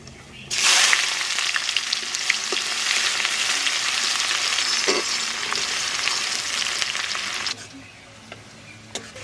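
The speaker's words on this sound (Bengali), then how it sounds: "আর দেবো লং দারচিনি এলাচ এইবার পেঁয়াজ দিয়ে দেবো" Whole spices (cloves, cinnamon and cardamom) and onion fry in hot oil, giving a loud, steady sizzle that starts abruptly and runs for about seven seconds before dropping away to a quiet hiss, with a few small pops.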